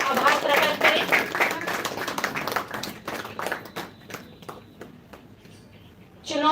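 An audience at an annual day celebration claps in a burst of applause that thins into scattered claps, then a fresh flurry of clapping breaks out at the end.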